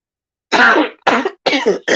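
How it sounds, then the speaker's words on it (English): Close, raspy coughing comes as four quick throat-clearing bursts in a row, each separated by a brief pause. "I'm coughing, guys."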